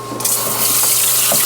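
A little water is poured into a skillet while a meat loaf meal is cooked, a short, close, steady rushing splash that swells slightly as it goes.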